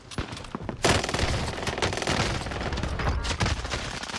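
Rapid bursts of gunfire in Call of Duty Warzone, dense overlapping shots and loud fusillades continuing steadily with no pauses, heard close without talk.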